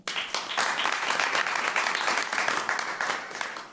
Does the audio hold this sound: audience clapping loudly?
yes